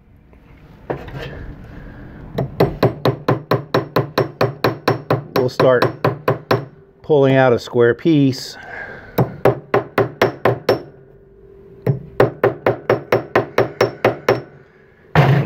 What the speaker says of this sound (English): So if we hammer this for a little bit,